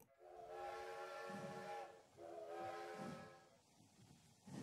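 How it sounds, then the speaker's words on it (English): A steam train comes to life: two long, faint whistle blasts, each followed by a soft hissing chuff, with a quiet background between them. "The train wakes up as the engine puffs into life."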